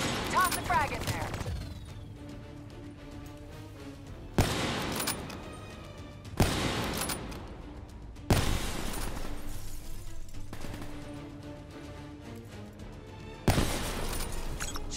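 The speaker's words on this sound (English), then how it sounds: "Turrets! I'll draw their fire!" Turret gunfire rattles through a Call of Duty: Black Ops III combat scene. Loud bursts of shots and impacts come in repeated waves, with voices speaking under the fire.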